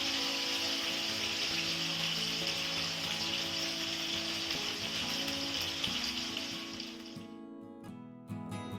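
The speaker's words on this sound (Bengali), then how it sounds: "দুইবারে মাছগুলোকে ভেজে তুলে নিচ্ছি" Pieces of rohu fish fry in oil in a pan over medium heat, giving a steady bubbling sizzle that fades and thins out toward the end.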